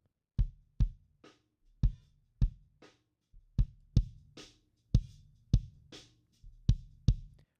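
Punchy kick drum processed with EQ and compression, hitting in a steady pattern of about fifteen beats with boosted low-end thump and a sharp click on each attack, played alone with no talk.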